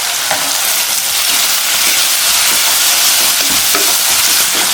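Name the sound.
onion and turmeric stirred and frying in oil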